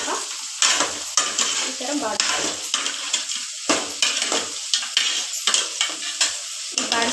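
Tomato and onion frying in a pan with turmeric and salt, stirred with a spoon that scrapes and clinks against the pot in steady strokes over a continuous close sizzle, with a brief spoken remark.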